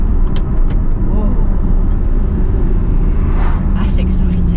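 Engine of a 2019 Audi R8 while driving, a loud steady interior drone and rumble with brief higher bursts, under people talking excitedly.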